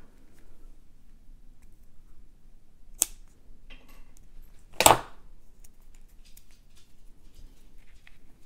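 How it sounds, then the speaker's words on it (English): Scissors trim beaded necklace cords to an even length. Two crisp snips stand out against near silence, the second louder, followed by a few faint rustles. "I'm going to trim these so they're all the same length."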